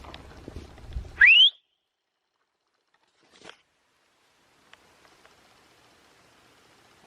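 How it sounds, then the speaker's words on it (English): A single sharp rising whistle, loud and brief, calls a dog during a desert hike near Ehrenberg, Arizona, followed by faint scattered rustles and near silence. "if you whistle, see if she comes this way."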